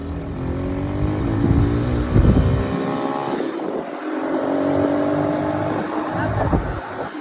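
A quad bike engine revs with a rising, whining pitch as it pulls away. The sound is close, loud and continuous, with the revs climbing and dipping through the clip.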